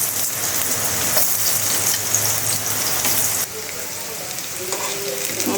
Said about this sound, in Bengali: এপাশে তেল দিয়া কাঁকরোল ভাজা বসাই দেবো